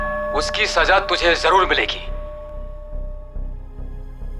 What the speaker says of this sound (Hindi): पीछे घंटे की आवाज आ रही है।